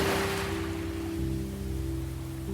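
Sea waves washing in a soft, continuous hiss that fades slightly, with a low steady drone beneath, heard alone without voices.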